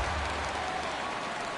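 Baseball stadium crowd in a PS4 game reacting to a foul ball hit down the left field line, a steady broad roar and murmur of many voices throughout, fairly loud and continuous without any clear speech.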